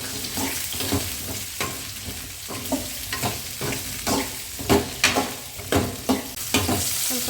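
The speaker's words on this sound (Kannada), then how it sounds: "ಸಣ್ಣ ಉರಿ ಮಾಡಿಕೊಂಡು ಕಟ್ ಮಾಡ್ಕೊಂಡಿರೋ ಬೆಂಡೆಕಾಯಿನ ಕ್ಲೀನಾಗಿ ಫ್ರೈ ಮಾಡ್ಕೊಬೇಕು." Cut okra frying in a few spoons of oil over low heat, with steady sizzling and repeated scraping stirs from a spoon against the pan, close and fairly loud, no talking.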